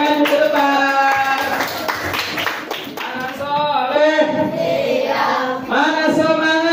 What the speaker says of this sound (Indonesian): Beri tepuk tangan buat teman-teman yang akan maju ke depan.